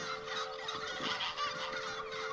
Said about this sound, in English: The goose came here to protect the turkeys.